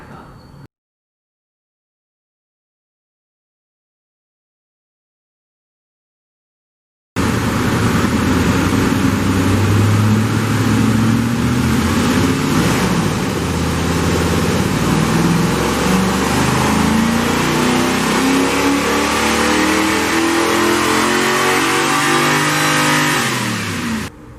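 A tuned car engine on a dynamometer during a baseline pull revs hard and climbs steadily in pitch for about fifteen seconds, loud and continuous, after a brief silent stretch.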